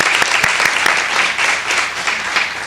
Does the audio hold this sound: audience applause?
yes